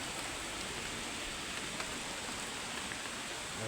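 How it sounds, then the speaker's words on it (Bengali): Steady rain falling outside a village shop on a rainy day, a continuous even hiss of drops on surfaces at moderate level, with no voices. "বাইরে কত সুন্দর বৃষ্টি হচ্ছে"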